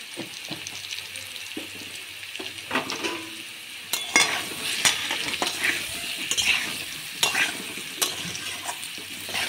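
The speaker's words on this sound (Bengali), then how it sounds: "এবার আমি আলুগুলো ভেজে নিচ্ছি" Potato pieces fry in oil in a kadai with salt and turmeric, giving a soft constant sizzle broken by scraping stirs and clacks of the spoon against the pan at irregular moments.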